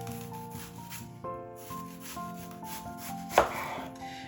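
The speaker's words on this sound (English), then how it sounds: "Next, we're gonna go in with our red onion. Now I'm gonna try and slice this as thin as possible." A knife thinly slicing a red onion on a cutting board, soft repeated rubbing cuts under light background music, with one sharper chop near the end.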